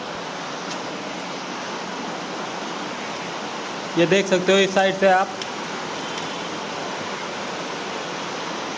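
Heavy monsoon rain pours steadily over Mumbai streets, a dense continuous hiss filling the whole stretch, with someone talking briefly partway through.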